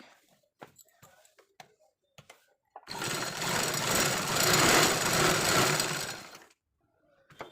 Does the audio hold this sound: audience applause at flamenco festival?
no